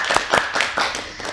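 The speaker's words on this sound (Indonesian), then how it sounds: "Tepuk tangan dulu untuk kita semua." A small class at a microteaching session claps hands in a quick, rhythmic series of about five distinct claps, close and moderately loud, with no talking.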